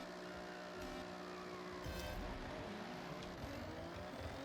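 Race car wheel spin on a rain-soaked track in a driving video game, a steady engine drone with tyres slipping and brief surges, fairly faint and continuous with no talk.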